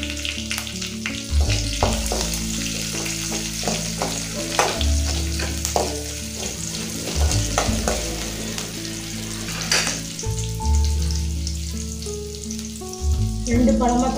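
Onion, a slit green chili and crushed garlic cloves sauté in oil in a pan for tomato rice. A steady sizzle plays beneath repeated scraping stirs of a spatula, up close and without talking.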